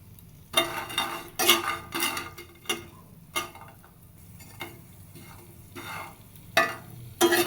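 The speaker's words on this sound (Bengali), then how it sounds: "বড়িগুলো খুব সুন্দর মতো ভেজে তুলে নিব।" Lentil dumplings (bori) frying in hot oil in a pan, a soft sizzle punctuated by repeated clinks of a spatula against the pan as they are stirred, with no talking.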